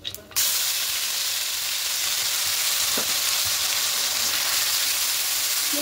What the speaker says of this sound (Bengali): এবার এখানে যে পেস্টটা করেছিলাম এই পেস্টটা দিয়ে দেব।